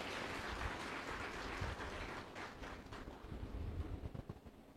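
Award recipients at a live interview event get a sustained wash of audience clapping, moderately faint and steady, thinning toward the end.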